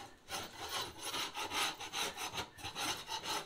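Scraping up old kitchen backsplash material during a remodel, a continuous rough, rasping scrape with rhythmic strokes, close and fairly quiet, with no talking.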